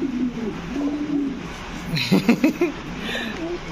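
A female American Muffet Helmet fancy pigeon coos in a short burst of soft, throaty calls around the middle, close by, over a low background murmur.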